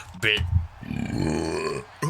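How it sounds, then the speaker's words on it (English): A long, loud belch follows drinking three generic colas, a deep guttural rumble lasting over a second, with a short throaty grunt just before it and a brief voice afterward. "I guess three generic colas really make you belch."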